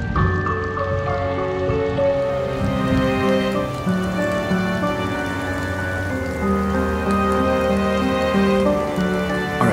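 Steady rain falling in the video game Nancy Drew: Midnight in Salem, a constant wash of drops heard alone under a sustained musical score throughout.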